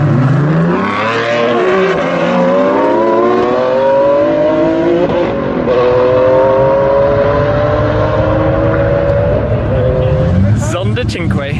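Hypercars including a LaFerrari, Koenigsegg One:1 and Pagani Zonda Cinque roar loud and close in a drag race, engines climbing steadily through the gears in one long sustained wail, with a sharp burst of noise near the end.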